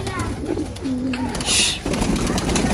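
Low, throaty cooing of pigeons close by, a soft rolling coo rising over a noisy outdoor background with a brief hiss partway through.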